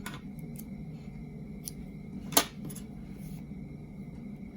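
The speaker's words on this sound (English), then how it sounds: "and then cut your yarn." A single quick snip of scissors cutting crochet yarn for an amigurumi cherry leaf, one sharp close click standing alone against a quiet room hum.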